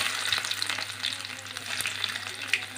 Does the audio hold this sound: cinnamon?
yes